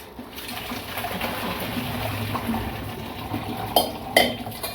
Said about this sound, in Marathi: आपण हिला चाळणीमध्ये ओतून काढू